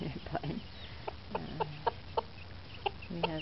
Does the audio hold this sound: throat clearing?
no